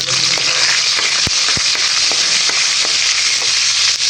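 Garlic and onion sautéing in hot oil in a pan, a loud constant sizzling hiss near at hand, broken by several sharp knocks and scrapes of a utensil against the pan.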